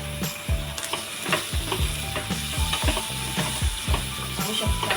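Boiled val beans are stirred into frying masala with a steady sizzle, overlaid by a quick, regular run of spoon scrapes and clacks against the pan.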